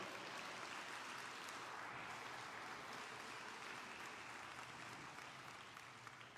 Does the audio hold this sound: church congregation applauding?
yes